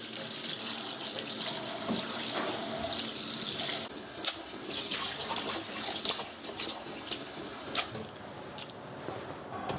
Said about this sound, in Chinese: 我们再用温水给它淘洗干净